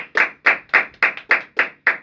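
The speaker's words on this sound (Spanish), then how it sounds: "con un fuerte aplauso presentamos a nuestra operadora Gachi." Seven sharp, evenly spaced claps in a steady unison rhythm, close and fairly loud, as an audience at a Christian youth program greets a presenter.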